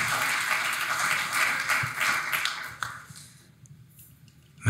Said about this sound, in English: We have one more round of applause for Avery Lee